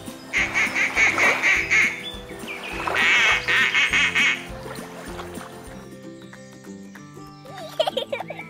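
A duck quacks repeatedly in loud, rhythmic bursts close by, then falls quiet as a low hum and faint background noise continue.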